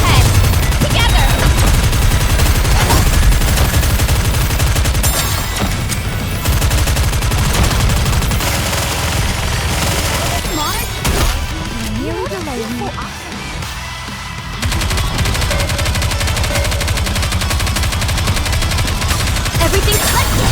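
Dense rapid gunfire and machine-gun bursts in a video game battle rattle on continuously for about twenty seconds, loud and close, with voices shouting over the shooting.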